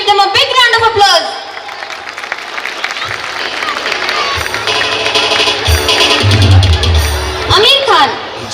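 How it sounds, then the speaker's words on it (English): Audience applause and cheering after a school annual gathering dance performance, a loud, sustained wash of clapping from a crowd with a voice speaking over it and some booming bangs. "give them a big round of applause"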